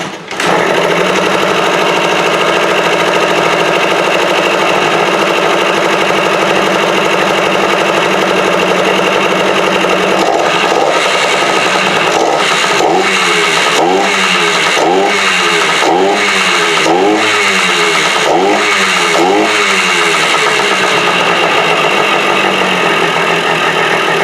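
A KTM 300 motorcycle engine runs loud and close, idling at a steady buzzing drone before being revved repeatedly in a rhythmic series of sharp rises and falls.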